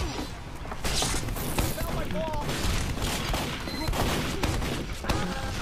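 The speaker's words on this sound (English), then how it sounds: "God damn it, we're getting bombarded" Team Fortress 2 bombardment: a dense, continuous barrage of gunfire and explosive booms with crashing impacts, loud and steady throughout, with faint voices mixed in.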